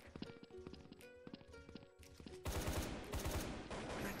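Video game gunfire from a SCAR rifle test: sparse scattered shots and clicks at first, then a dense, loud stretch of rapid automatic fire filling the second half.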